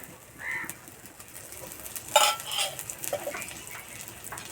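A savoury snack sizzles in oil in a frying pan, a soft steady crackle broken by a few louder clinks and scrapes of a utensil against the pan, with no talking.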